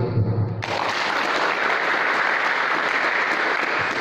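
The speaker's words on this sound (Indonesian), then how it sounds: "Tepuk tangan dulu" A church congregation breaks into applause, a dense wash of clapping that starts sharply after a brief pause and then holds steady and loud.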